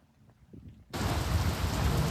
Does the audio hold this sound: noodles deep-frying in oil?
no